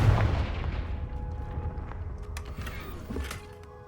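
A Confringo blasting spell bursts in the video game Hogwarts Legacy, a heavy booming blast with a deep rumble that slowly decays, followed by a few smaller crackling impacts as the noise fades.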